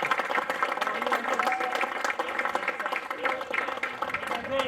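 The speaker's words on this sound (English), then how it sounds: "A round of applause for the boys" Applause from the audience at a football club's senior awards presentation night, a steady dense wash of clapping filling the room, with some voices mixed in underneath.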